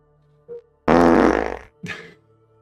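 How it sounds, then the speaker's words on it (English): A loud, close fart lasting well under a second, with a short fainter puff just before it and another brief one right after, set against near silence. "I've been farting all day long because I've started taking some whey proteins"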